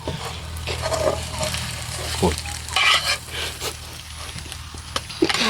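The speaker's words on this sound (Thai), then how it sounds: "ทอดไข่เรา" Eggs frying in oil in a pan, with a steady close sizzle broken by scrapes and clinks of stirring and brief sounds of movement nearby.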